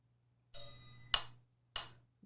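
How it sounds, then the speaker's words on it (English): A metronome strikes a bright bell on the first beat of the bar, then gives sharp ticks at an even pace, sounding close and clear with no voices. "Now I'm going to put the metronome on and it will play the beat."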